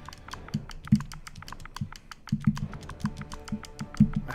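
Fast, uneven typing on a computer keyboard, with crisp clicks over low thuds, close and moderately loud, with no voices.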